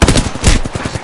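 Rapid automatic gunfire from a PS4 shooter video game, dense bursts of shots crackling continuously and loudly for about a second with no talk over it.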